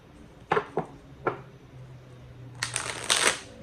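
Tarot cards being shuffled up close: a few crisp riffling flicks in quick succession, a brief low hum, then a louder, longer riffle near the end, with no talking.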